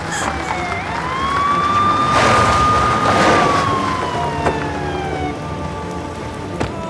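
A fire crackles and hisses steadily while a siren wails and slides in pitch over it.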